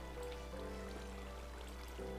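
A Minecraft waterfall gives a soft, steady rushing hiss of falling water, faint and continuous beneath a low hum, with no voices.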